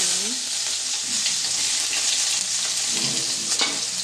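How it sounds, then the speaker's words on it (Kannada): Onion frying in oil in a pan, a steady close crackling sizzle that holds for the whole stretch, with a few low scraping stirs and brief louder pops near the end, no voices. "ಎಣ್ಣೆ ಹಾಕ್ತಿದ್ದೇನೆ ಈಗ ಒಂದು ನೀರುಳ್ಳಿ ಹಾಕ್ತೀನಿ"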